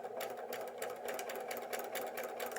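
A sewing machine stitches fabric close up during precision piecing, its steady rapid needle rhythm running continuously and fairly loud throughout with no voices.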